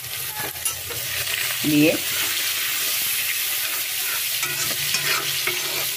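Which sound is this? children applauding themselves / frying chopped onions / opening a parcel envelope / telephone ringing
frying chopped onions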